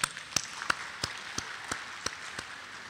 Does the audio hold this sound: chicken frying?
no